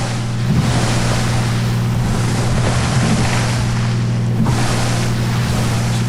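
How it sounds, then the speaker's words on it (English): A floatplane skimming across waves at speed in a simulated water takeoff, with a loud steady engine drone under rushing water and wind noise and periodic slaps as the floats skip across the surface. "As speed increases, you start to skip on the waves."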